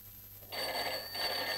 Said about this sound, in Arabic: محدش يرد على التليفون.